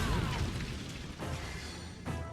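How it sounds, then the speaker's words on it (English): A mage's standard ice explosion goes off during a boss fight in Dragon Age 2. It makes a dense burst with a crackling, shattering tail, and two further sharp hits follow, fairly faint and with no talk over them. "The standard ice explosion."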